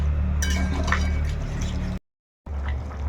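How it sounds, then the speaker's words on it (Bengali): A fig and potato curry bubbles in a pot with a steady, close liquid simmer and a few light clinks, broken by a short silent gap before the boiling resumes. "তো এখন এটাকে আরেকটু ফুটিয়ে নেব।"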